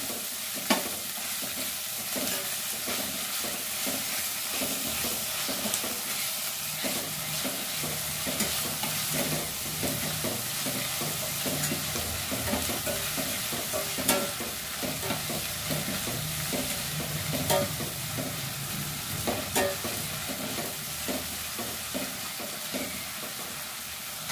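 Onion, green chilli and ginger-garlic paste fry in a pan, a dense, steady sizzle broken by rapid, repeated spatula scrapes and clicks as the mixture is stirred continuously, with no talking.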